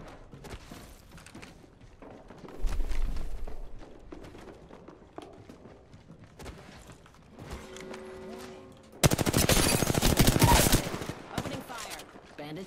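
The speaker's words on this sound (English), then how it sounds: "Opening fire" Gunfire in the battle royale shooter Apex Legends, with scattered shots and movement building to a sustained loud burst of rapid fire near the end, mixed with game sounds and occasional voice chatter.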